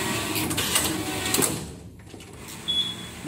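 A knitting machine runs with yarn fed through, its carriage giving a steady mechanical clatter that briefly drops away before resuming with a thin high squeak.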